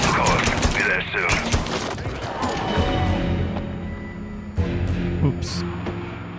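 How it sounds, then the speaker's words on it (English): Loud, dense bursts of automatic cover fire in the Mafia 3 video game, rapid shots overlapping continuously with a few sharper cracks and a thudding low end throughout. "Get me some cover fire, Frisco!"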